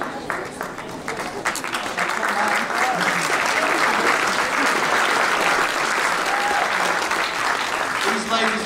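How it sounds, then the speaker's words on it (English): A high school athletic banquet audience in a cafeteria bursts into applause for the coaches' spouses, building from scattered claps into loud, sustained clapping that carries on to the end. "These ladies and gentlemen deserve a huge round of applause for their sacrifices which allow our coaches to coach."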